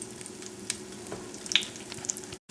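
Corn fritters frying in oil in a stainless steel pan, a steady close sizzle with scattered small pops and crackles, ending in a brief drop to silence.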